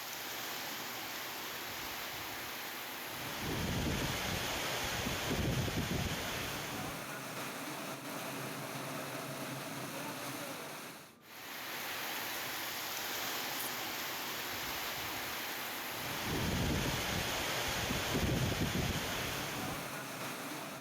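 Stormy wind roars with heavy rain pouring steadily during a cyclone in Banda town, Sawantwadi taluka, forming a dense continuous wash with gusty surges and a brief dip midway.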